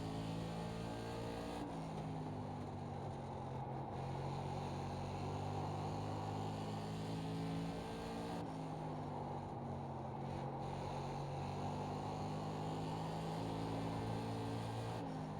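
SK Modified race car at Irwindale in iRacing, a steady droning engine note with layered harmonic whine, shifting pitch a couple of times as the car accelerates, continuous and fairly quiet with no talk.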